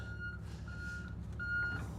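A dump truck's reversing alarm sounds at a gold-mining pay-dirt site, three evenly spaced beeps over a low rumbling engine idle, fairly close, with no talk.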